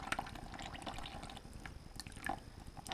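Salt water drains from the crankcase of a sunken, seized Suzuki DF60 outboard engine, giving a faint, close trickle with small irregular drips and splashes, quiet and alone.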